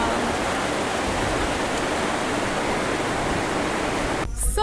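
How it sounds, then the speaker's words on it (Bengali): Heavy rain pouring down in a steady, dense, loud wash of noise that hardly changes, then cuts off abruptly near the end. "ফাইনালি বৃষ্টি।"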